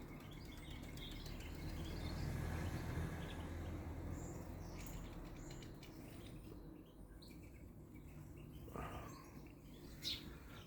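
Several birds chirp and call faintly among the branches over a low outdoor rumble, scattered and irregular.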